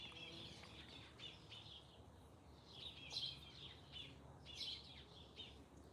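Birds chirp outdoors, faint and somewhat distant, with clusters of short bright tweets recurring every second or so over a soft ambient hiss.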